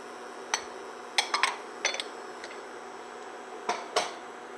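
A spoon stirs celery, carrots, onions and garlic in a pot, with light scattered clinks and scrapes against the metal, some in quick clusters, over quiet background hiss.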